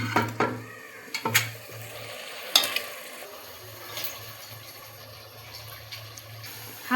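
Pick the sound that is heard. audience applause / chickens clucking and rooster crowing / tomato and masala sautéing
tomato and masala sautéing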